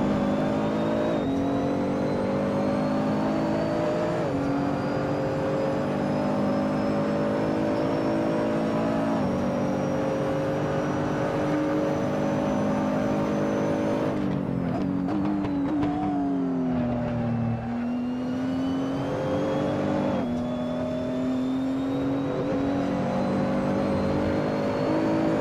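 Nissan GT-R GT3 race car engine in Assetto Corsa at Monza, revving loud and steady with rising pitch through gears, a brief lift and downshift midway before climbing again, no talk.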